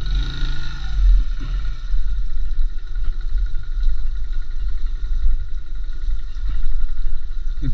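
A Suzuki GN 125 motorcycle engine runs steadily at low revs, a continuous close mid-level drone with a brief louder surge near the start, struggling on an uphill road.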